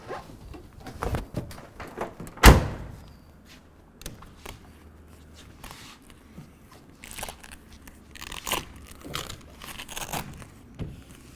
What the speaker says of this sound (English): Then we can go ahead and fix the Velcro on the sides.